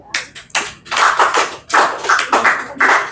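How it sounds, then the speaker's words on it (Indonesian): Audience clapping at a public forum, heard as close, uneven bursts of hand claps with short gaps between them, loud and without talk. "Tepuk tangan, Bos."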